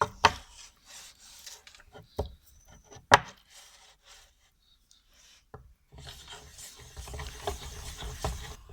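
A chisel rubbed on a slate whetstone, with scattered close rasping strokes and a few sharp knocks, then a quiet pause before a longer stretch of continuous grinding near the end.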